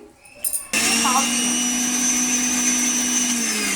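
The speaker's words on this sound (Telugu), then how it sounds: "కోకోనట్ కొంచెం వేసి గ్రైండ్ చేసి పాలు తీయాలి" A mixer grinder grinds grated coconut for coconut milk: a few faint clatters, then the motor kicks in abruptly and runs as a loud, steady, close whirring roar with a constant hum until the end.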